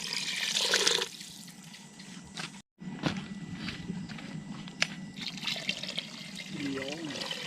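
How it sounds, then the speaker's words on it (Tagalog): Water pours into a pot of kaldereta being cooked outdoors on a farm, a close, splashing trickle with short pauses, while a voice talks over it. "Lagyan natin ng sabaw, tubig."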